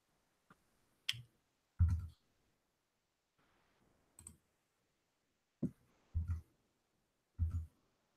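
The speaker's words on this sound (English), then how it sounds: "I might be clicking on it too fast." Computer mouse clicks come in sparse, sharp taps, some paired, separated by near silence and faint breaths, close and quiet.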